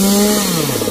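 Chainsaw cutting through a royal palm trunk, a loud close whine with the engine pitch dipping as the chain bites, brief and alone.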